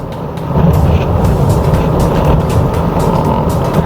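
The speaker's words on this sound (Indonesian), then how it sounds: "sekarang kita jalan dalam kondisi electric vehicle ya. Jadi dengan motor listrik, motor bakarnya tidak nyala." A hybrid car drives on its electric motor with the combustion engine off, heard from inside the cabin as a steady, loud road and tyre rumble with a faint motor hum and no talking.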